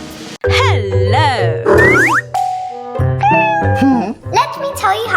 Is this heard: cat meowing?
yes